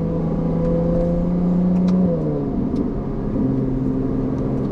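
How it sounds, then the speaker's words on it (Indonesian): A Ferrari 296 GTB hybrid accelerates hard, its loud engine droning steadily before the pitch drops through a gear shift, then settles into a new steady tone, close and continuous with no talking. "Kalau pindah gigi juga asik suaranya."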